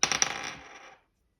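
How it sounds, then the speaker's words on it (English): Numerology dice clatter onto a hard surface, giving a short bright rattle of several quick impacts that fades within a second. It is close, with no talk. "let's roll our numerology dice and see what we're saving for"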